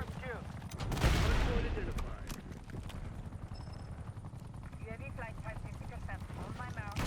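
AK74 gunfire in the video game Black Ops 6: rapid bursts of shots with a heavy initial blast, then continued crackling fire under someone talking.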